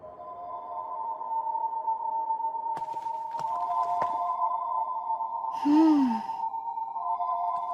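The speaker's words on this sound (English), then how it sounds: "The sound is the crystal resonating with the others of its kind nearby." In an anime, a magic crystal resonates with others of its kind nearby, giving a steady sustained ringing hum with a few faint clicks and a brief breathy voice sound near the end.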